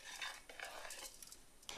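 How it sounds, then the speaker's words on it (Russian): Soft scraping of a utensil stirring salt into a pickling marinade in a pot, quiet repeated swishes and light clinks over low background noise. "Так, все размешиваю."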